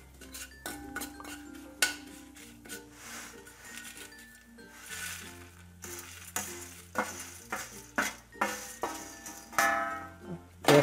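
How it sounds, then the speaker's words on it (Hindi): Ragi puffs tossed with spices in a pan over low heat, a spatula scraping and clinking against the metal in repeated strokes with a soft sizzle underneath, loud and close, with faint background music. "अब इसको जो है अच्छे से मिक्स कर लेते हैं और फ्राई कर लेते हैं"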